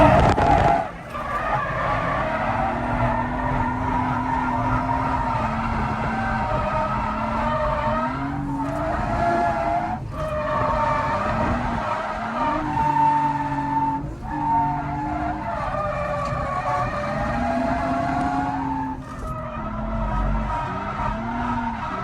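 Nissan 350Z drifting in second gear, engine revving high and wavering while the tires squeal and scrub in long, loud bursts, with brief dips between slides.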